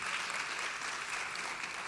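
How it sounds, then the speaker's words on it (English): An audience claps steadily for a couple of seconds, a dense, even wash of applause with no voices standing out. "oh yeah, and please, applause for Margaret Burroughs for sure"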